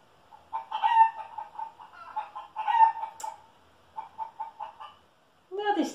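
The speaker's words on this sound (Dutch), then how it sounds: "Dat is de kip." A chicken clucks in rapid repeated bursts, close and clear, with short pauses between phrases and a brief higher call at the end.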